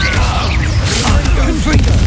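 Incendio fire spell cast in Hogwarts Legacy, a brief whooshing burst of flame at close range that sits under a steady bed of game noise and a shouted voice.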